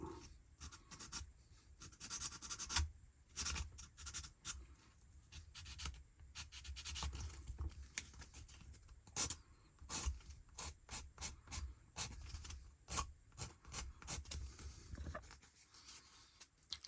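Close, quiet rhythmic rubbing and scraping as a small plastic part of a 1/72 scale aircraft model kit is sanded down, repeated short strokes with brief pauses.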